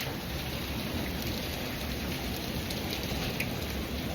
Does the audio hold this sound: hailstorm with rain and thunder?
yes